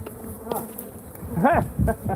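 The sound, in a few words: bee swarm buzzing overhead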